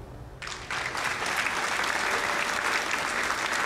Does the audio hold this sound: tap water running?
no